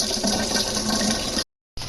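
Coolant rushes and splashes steadily as it drains from a 1992 GMC one-ton truck during a water pump replacement, a close, continuous gush that cuts off abruptly before a brief resumption.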